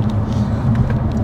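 A BMW 135i E82 with an N55 engine, DKG gearbox and Stage 2 tune runs with a loud, close, steady low rumble and droning hum, with no gaps over a short stretch.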